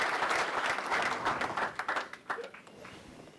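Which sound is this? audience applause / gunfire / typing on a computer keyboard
audience applause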